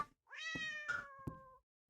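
A house cat gives a single drawn-out, tonal meow close to the microphone, with a few light clicks and bumps around it indoors.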